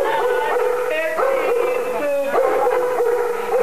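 A dog nearby vocalizes loudly and continuously, yelping and whining in rising and falling tones.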